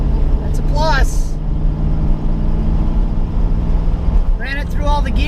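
An LS-swapped Nissan 350Z drives along under load with a loud, steady engine drone, while someone talks briefly over it near the start and the end.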